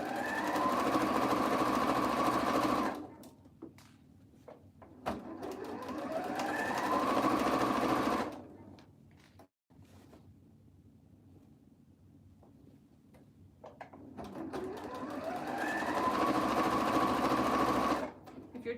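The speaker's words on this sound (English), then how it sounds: "we are sewing up scrub caps tonight" A sewing machine sews surgical scrub caps in three close bursts of rapid whirring, each rising in speed and then stopping, separated by quieter pauses with faint handling sounds.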